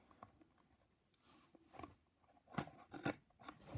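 Quiet, sporadic snips and crisp cuts of thin packaging made with sharp tweezers, close by, with a few sharper clicks near the end.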